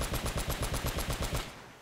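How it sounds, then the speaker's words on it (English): Rapid bursts from a mounted machine gun in Uncharted: Drake's Fortune, about a dozen evenly spaced shots in a steady rattle, loud and close with no talk, then cutting off. "It is shooting where I'm aiming, but the gun isn't looking there."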